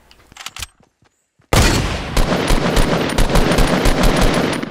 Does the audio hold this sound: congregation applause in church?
no